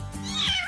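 Cartoon cats meow in a short, clear burst, a couple of close, bright mews that rise and fall over less than a second.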